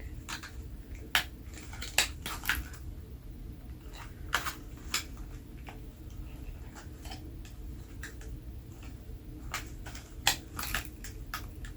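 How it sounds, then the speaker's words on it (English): Scissors snipping the ties that hold a Monster High Skullector Elvira doll to its plastic packaging, heard as a dozen or so sharp, close clicks spaced irregularly over a low, steady room hum. "Go ahead and cut these T-ties, holding her waist to the plastic."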